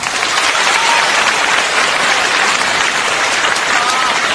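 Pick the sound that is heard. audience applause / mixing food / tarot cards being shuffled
audience applause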